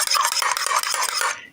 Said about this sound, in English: I'm just beating up the eggs.